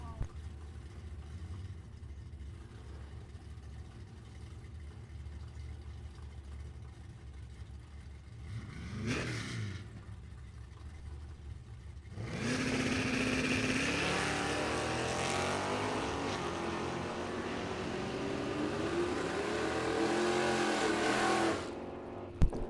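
A 1966 Chevelle and a 1971 Duster launch in an index drag race. A quiet stretch and a brief pass give way to a loud, sustained roar of engines accelerating away, close and then receding.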